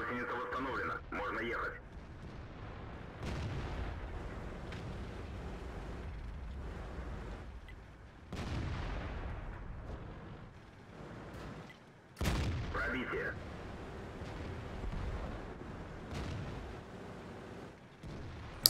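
Gunfire and heavy explosions from a video game tank battle in a swamp, with an Object 430 II under fire from several positions. Booming blasts and rumbling volleys come in bursts, some close and loud, with radio-like voice chatter over them.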